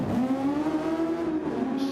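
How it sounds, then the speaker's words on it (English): A Super Formula race car engine screams past at high revs, a loud, sustained harmonic whine with a steady pitch that dips slightly as it passes, no voices over it. "The engine note there."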